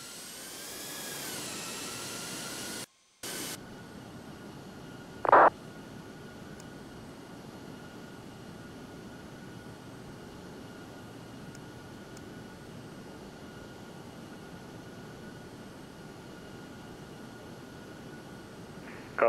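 Steady jet roar of an airliner on its takeoff run in the Prepar3D flight simulator, a continuous broadband engine drone holding evenly at moderate level, with a brief dropout and a short sharp click early on.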